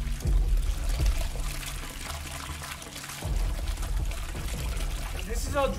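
Drinking water pours steadily from a leak aboard an escape pod, a continuous splashing flow over a low background rumble that fades slightly midway and then swells back.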